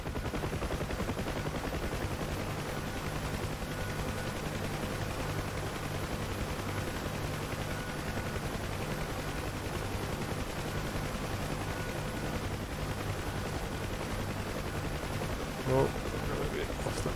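Door gunners on a Huey UH-1 helicopter firing machine guns in the DCS flight simulator, with dense continuous rapid fire over the helicopter's steady rotor drone for many seconds and a short thump near the end.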